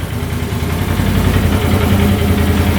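An ATV engine, newly repaired after failing to start, idles steadily and loudly up close with an even, rough mechanical rumble and no talking.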